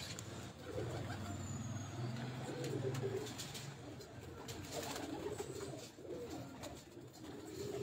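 Pigeons coo steadily from a rooftop loft, a low continuous murmur of several birds close by, with faint traffic rumble in the background.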